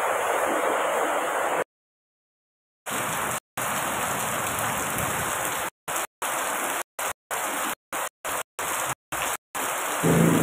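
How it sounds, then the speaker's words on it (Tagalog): Heavy morning rain pours down outside a home, flooding the yard and clogging the drain, a steady loud dense hiss that cuts out abruptly several times. "ang lakas naman ng ulan"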